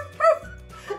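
A person imitates a dog bark with a single close, loud woof-like yelp, followed by a softer trailing voiced sound.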